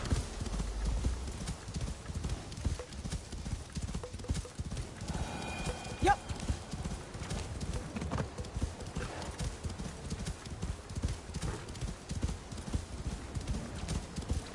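Steady rhythmic hoofbeats of a horse clip-clopping along at a trot in the video game Assassin's Creed Shadows, continuous throughout, with a brief spoken word partway through.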